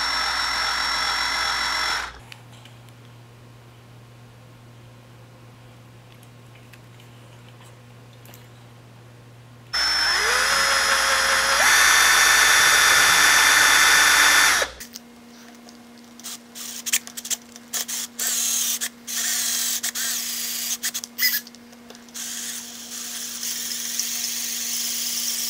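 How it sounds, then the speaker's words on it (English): A power drill fitted with new bits whines in bursts while boring into a GY6 Ruckus scooter, loud and close, with quiet gaps between runs and a rougher, squealing stretch toward the end. "These drill bits seem to suck even though they're brand new."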